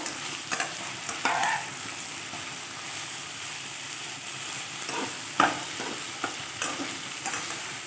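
Drumstick stalks with poppy seed paste and green chillies are stirred in a pan over a soft sizzle, with occasional scrapes and clinks of the spatula at irregular intervals, close and fairly quiet.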